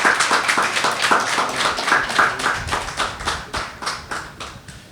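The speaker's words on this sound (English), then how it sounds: "Give them a round of applause, please" A school closing ceremony audience claps for a group of named students: distinct, fairly quick handclaps at a steady pace, loud and close, holding for several seconds with no speech over them.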